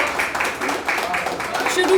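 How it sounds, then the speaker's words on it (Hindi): An open mic audience claps for a performer, with quick, uneven hand claps coming in bursts under a spoken voice. "एक बार आपकी तालियां भरपूर हो जाए।"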